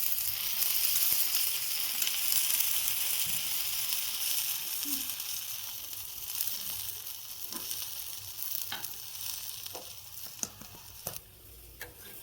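Oil sizzles around a ragi roti on a hot pan with a steady bright hiss that slowly eases, broken by a few sharp pops and spatula clicks near the end, heard close up.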